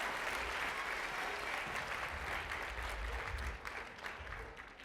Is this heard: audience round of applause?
yes